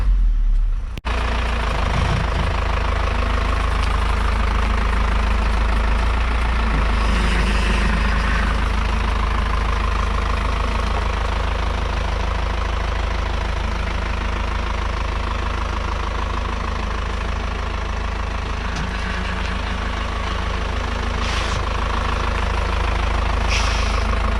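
An Isuzu NPR truck engine runs at a steady idle throughout, a loud, continuous low rumble with an even, knocking diesel-like pulse and no voices.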